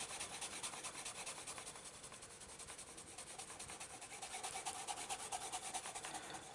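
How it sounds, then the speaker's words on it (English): An eraser rubs back and forth over coloured pencil on paper in quick, soft, scratchy strokes, close and quiet, with no voices. "I'll have to erase that."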